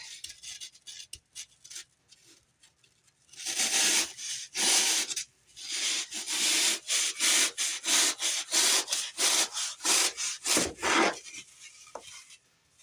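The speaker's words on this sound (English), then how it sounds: "we're going to cut up the rest of this to be about that inch or that thick" A blade saws through florist foam in a run of quick rhythmic rasping strokes, loud and close, after a few quieter scrapes at the start.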